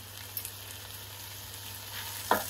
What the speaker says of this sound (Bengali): চালটা আমি ভালো মতো ভাজা ভাজা করে নিব। আর দিয়ে দিব আমি এই পর্যায়ে 1 টেবিল চামচ আদা রসুনের পেস্ট,